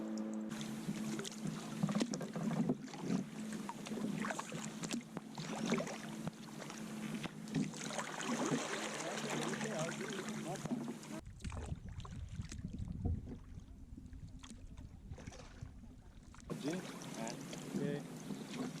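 A rough old two-stroke engine chugs steadily nearby with a low, throbbing drone, over wind and water noise, briefly dropping off before returning.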